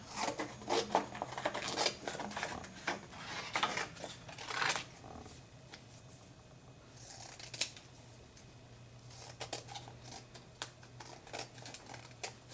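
Scissors snip and cut through paper while building a fortune teller machine craft, crisp close-up cuts coming in quick irregular bursts with short pauses, no talking.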